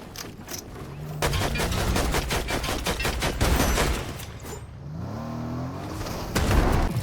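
In the 100 Drops video game, a rapid volley of gunshots rattles close by, followed by scattered shots and a revving vehicle engine in a busy, loud battle scene.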